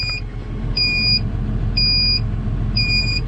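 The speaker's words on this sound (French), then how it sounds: "le bip que vous entendez c'est en fait parce que je n'ai plus ou quasi plus d'orge dans la trémie du semoir" Low-hopper warning alarm on a seed drill sowing barley, nearly empty, four evenly spaced high electronic beeps over a steady low tractor engine rumble.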